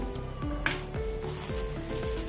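Sabudana upma being stirred in a pan, with a steady sizzle and regular scraping strokes of a spoon against the metal, a sharper clink partway through, close and moderately quiet.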